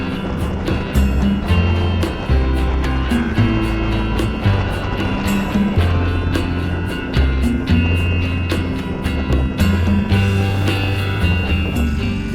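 Ducati Supersport motorcycle cruising at speed on a motorway, a loud sustained engine drone with shifting low tones mixed with rushing wind and repeated sharp buffeting clicks.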